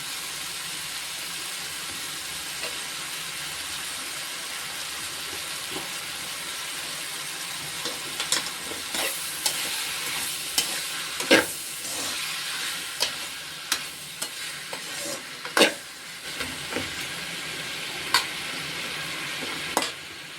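Carrots and vermicelli for semiya kichadi sautéing in a pan, a constant soft sizzle with scattered sharper scrapes and clicks of stirring, close by and with no one talking.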